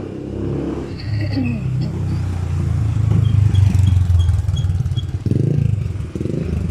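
Motorized tricycles pass on a street, a steady close engine drone and rattle rising to a louder passing rumble, with street noise and a voice speaking over it.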